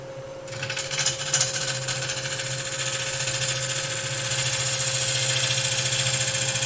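A woodturning lathe switched on and running, a brief clatter at start-up settling into a constant mechanical whine and hum that holds steady and grows slightly louder, close by, with no talk.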